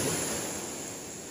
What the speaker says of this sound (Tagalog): Malaki bumigay ang alon dito.